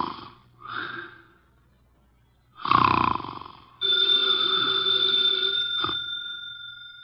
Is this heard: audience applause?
no